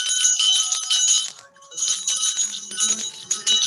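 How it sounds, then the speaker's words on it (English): High, shimmering bell tones ring in bursts with a brief lull in between, clear and close, with bright metallic overtones. "Hope you can hear the bell."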